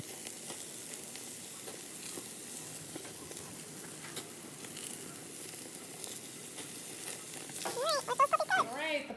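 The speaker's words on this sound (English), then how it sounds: "I have the pork on the grill" Pork chops sizzling on a grill, a faint steady crackle and hiss throughout, with a brief burst of clattering near the end.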